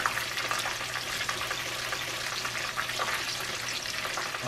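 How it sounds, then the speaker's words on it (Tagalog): Crispy tilapia fries in hot oil, giving a continuous bright, crackling sizzle that spatters steadily at moderate volume with no talking over it. "tatapusin natin ang pagprito, ha"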